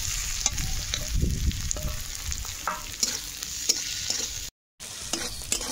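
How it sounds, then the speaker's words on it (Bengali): Onion, ginger, garlic and chopped green chilli fry in hot oil in a home kitchen, with a steady close sizzle and repeated stirring scrapes. A brief gap of silence comes near the end. "পেঁয়াজ আর আদা রসুন কাঁচা লঙ্কা সুন্দর করে ভাজা হয়ে গেছে"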